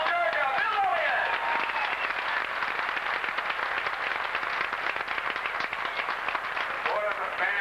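Crowd at a 1986 Winston West 500 at Evergreen Speedway in Washington applauds driver Bill Elliott, a dense wash of clapping and cheering that swells and holds for several seconds, with an announcer's voice over it at the start and end.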